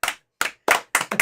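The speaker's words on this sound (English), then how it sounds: "Slow clap." A single person gives a slow clap at a fight night show, five sharp claps spaced unevenly and slightly speeding up, close and alone with no talk.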